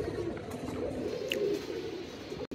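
A pigeon coos close by near a cage, blended into a steady bed of broadband background noise, with a brief dropout near the end.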